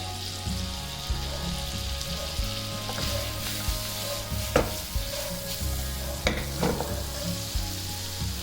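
Prawns frying in a pan for a Kundapura ghee roast give a loud, continuous close sizzle with crackling, spattering bursts and occasional stirring, no voices.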